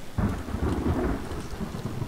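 Rain pours with a deep rolling rumble of thunder in The Forest alpha 0.22, a steady hiss under a booming low roll that starts abruptly and lingers, no voices.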